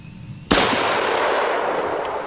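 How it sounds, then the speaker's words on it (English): A single loud, sharp shot from a Jungle Carbine rifle fired in darkness, followed by a long rolling echo that slowly fades. "Now let's try the same ammunition with the shorter Jungle Carbine."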